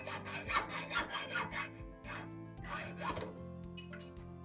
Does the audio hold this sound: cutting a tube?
yes